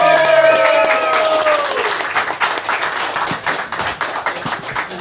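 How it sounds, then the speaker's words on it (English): Audience at the Golden Eagle open mic breaks into sustained applause for a performer, dense clapping that fills the room after a voice at the start and continues steadily to the end. "a round of applause for the amazing Amy Lewis!"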